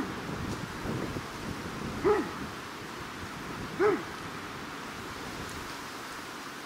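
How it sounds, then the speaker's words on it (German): A dog barks in the distance outdoors near a Doberman, two short, faint barks spaced a couple of seconds apart over wind and low background noise. "Ja, da hinten bellt ein Hund."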